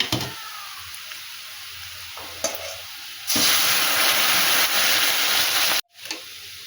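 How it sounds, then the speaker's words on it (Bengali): Masoor dal with vegetables poured into hot oil with panch phoron, chili, bay leaf and fried onions gives a sudden loud, steady sizzle that follows quieter pan sounds and runs for a few seconds before a brief break. "এবারে আমি এর মধ্যে ডালটা আমি ঢেলে দেবো।"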